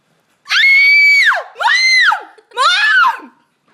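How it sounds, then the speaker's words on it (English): A child screams very loudly three times in a row, each shriek long and piercing, with short gaps between them and nothing else in the background. "Scream. Really loud."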